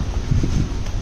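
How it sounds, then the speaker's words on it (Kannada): Strong wind blows hard and steadily across the microphone during a walk in Amsterdam near windmills, a loud, close, continuous roaring buffet with no voices, cutting off abruptly at the end. "ಬರ್ರ ಅಂತ ಗಾಳಿ ಬೀಸ್ತಾ ಇದೆ"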